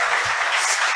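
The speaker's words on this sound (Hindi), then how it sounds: "ऐसी ताली बजा दो" An audience at a Hindi poetry gathering claps in a dense, steady burst that fills the room, heard briefly and fairly loud.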